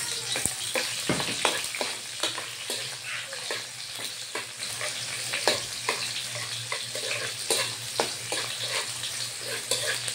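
Onions sizzle and crackle steadily in a hot pan over a low steady hum, with sharp spattering pops scattered throughout and no voices.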